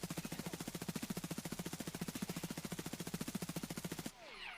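Rapid, unbroken automatic gunfire in Escape From Tarkov, loud and evenly spaced for about four seconds before it stops abruptly.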